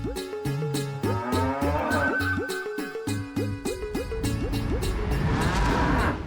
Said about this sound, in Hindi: वो काली वाली भैंस है ना, उससे जाके ले लो